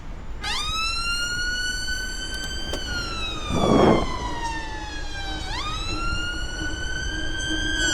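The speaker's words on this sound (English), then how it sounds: "Get out by these sirens." A wailing siren sweeps up and down loudly nearby, passing by over steady road noise, with a brief horn-like burst midway.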